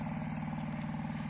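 A remote-controlled hand tractor, built in 2017, runs with a steady throbbing engine, an even low chugging pulse held close and constant throughout.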